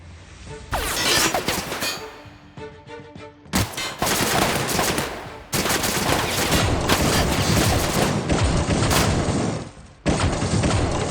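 Loud, close gunfire in the sci-fi game The Outer Worlds, with rapid volleys and heavy shots in repeated bursts, broken by brief pauses during a firefight.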